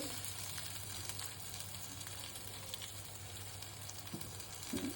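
Lentil fritters fry in a small amount of oil, giving a soft, steady sizzle and crackle throughout, with a faint hum underneath and light handling noises near the end.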